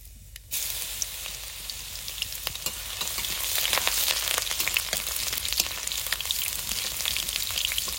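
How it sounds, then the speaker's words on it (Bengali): Garlic, nigella seeds and dried chilli fry in hot mustard oil, a steady close crackling sizzle that starts abruptly and grows denser and louder, with no talking. "তা প্রথমে সর্ষের তেল দিয়ে দেবো, কালো জিরে, শুকনো লঙ্কা, অল্প কটা রসুন ছেঁচে নিয়েছি"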